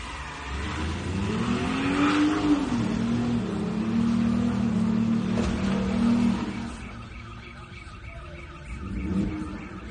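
A Ford Mustang engine revs with a loud, wavering whine that holds for several seconds, then fades into quieter background noise before a short rise again near the end.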